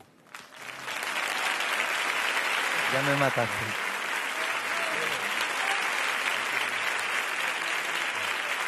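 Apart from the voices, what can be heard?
concert audience applause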